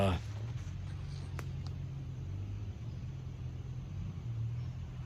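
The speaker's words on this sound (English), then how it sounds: "hang on, I hear a four-wheeler." A low four-wheeler ATV engine rumbles steadily in the distance as it passes, a faint continuous drone that holds for several seconds without a clear rise or fall.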